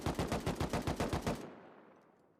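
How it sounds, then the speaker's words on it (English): Automatic gunfire in the video game Rust, a rapid burst of about a dozen evenly spaced shots in under a second and a half, then a fading echoing tail. "He did waste almost 30 bullets on Tesla again"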